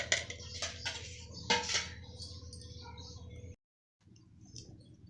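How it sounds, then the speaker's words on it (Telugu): Gongura chutney with dried red chillies, cumin and coriander seeds is pounded village style in a mortar, close, irregular knocking and grinding strikes, then a brief silence before quieter pounding resumes. "పల్లెటూరు స్టైల్లో గోంగూర పచ్చడి దంచుతున్నానండి"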